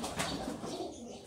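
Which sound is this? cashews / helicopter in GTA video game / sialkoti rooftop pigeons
sialkoti rooftop pigeons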